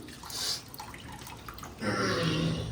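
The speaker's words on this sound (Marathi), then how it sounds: "आता हे जरासं पाणी काढून घेणार आहे" Water is scooped and poured out of a pot of cooking mutton, with a brief splash, then a sustained louder pouring gush near the end, close by with no talk.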